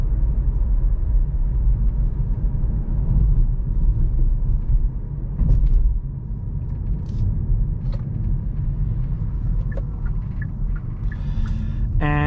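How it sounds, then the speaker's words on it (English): A 2021 Kia e-Niro electric SUV drives along with a low, steady cabin rumble of road and motor noise, a faint tonal whine near the end and small clicks, with no talking. "I love this electric sound and instant power that you have"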